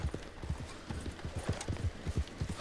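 Horse hooves clip-clop in a quick, steady rhythm as a horse trots along in Red Dead Redemption Online, fairly close, with a faint snort mixed in.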